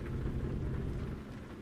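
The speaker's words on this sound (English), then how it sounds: "when it's raining in the middle of the night" Steady nighttime rain pours down in American Truck Simulator, a dense, even hiss of rainfall with a low rumbling undertone throughout.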